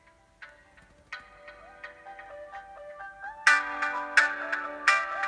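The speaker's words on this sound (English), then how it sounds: "So we now have a song in place of the standard alarm." A custom MP3 song plays as an iPhone alarm tone: melodic chime-like notes start softly and build, growing louder and fuller toward the end, with no talking.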